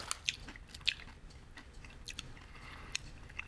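Close, quiet chewing of a light, crunchy Korean corn chip snack, with sharp crunching bites at irregular intervals over softer mouth sounds.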